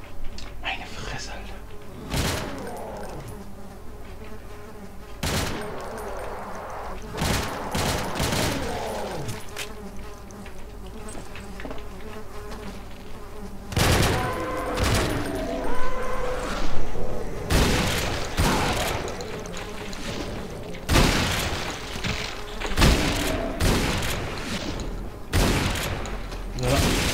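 Gunfire in the Call of DooM video game, sharp shots going off in scattered bursts, some in quick threes, over buzzing game ambience, with someone talking between them.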